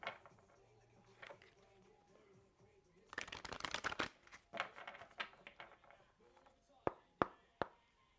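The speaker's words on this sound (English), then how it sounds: "One more shuffle." Tarot cards are riffled in a quick flurry of papery crackle lasting about a second, followed by softer taps and three sharp snaps as the deck is squared, with quiet talk at the start.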